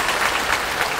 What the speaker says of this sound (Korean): 이럴 때 박수 한번 주시면 어떨까요?